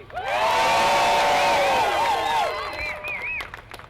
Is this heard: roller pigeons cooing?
no